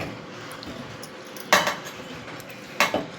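Chopped tomatoes dropped into a mixer jar in a home kitchen, a low background hum broken by two sharp clattering knocks of utensils against the jar, close and with no talk.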